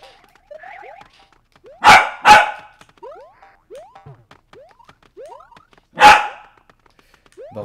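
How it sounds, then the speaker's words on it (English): A dog barks in the background, three loud sharp barks, while bright video game sound effects and chirpy tones play throughout. "Just accentuated by my dog barking in the background"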